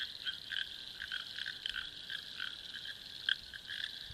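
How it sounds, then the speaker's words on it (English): Frogs croak in a steady chorus at a lake in Western Australia's Great Southern region at midnight, with many overlapping calls pulsing continuously at moderate volume and one louder call standing out near the end. "we popped down to the lake to listen to the frogs"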